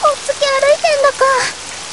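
Steady rain patters throughout a rainy scene in the video game Granblue Fantasy, a soft, even wash beneath a speaking voice that carries over most of it.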